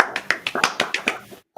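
A golf clap: about ten light, quick claps or taps in an even rhythm, close and crisp, ending in a brief silence.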